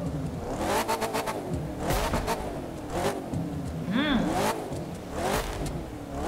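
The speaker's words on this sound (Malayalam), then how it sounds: "ഞാൻ വണ്ടി ഓൺ ആക്കി എഞ്ചിൻ്റെ സൗണ്ട് ജസ്റ്റ് ഒന്ന് കാണിച്ചാൽ" A Jeep engine revs up and down in several rising and falling surges, loud and close, with voices talking over it.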